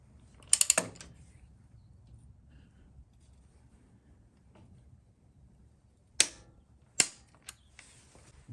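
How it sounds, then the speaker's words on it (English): Torque wrench tightening the cam bolt on a Harley-Davidson Twin Cam 88 during a hydraulic tensioner upgrade: a quick burst of close ratcheting clicks, a quiet pause, then two more sharp clicks, including the wrench's final snap. "Now final torque the cam bolt to 34 foot-pounds."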